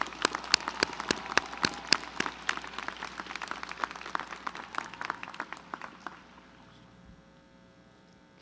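Graduation ceremony audience at a university commencement applauding, a dense patter of many hands from a large crowd in a big space, steady and moderately distant, thinning out and fading to a low hum near the end.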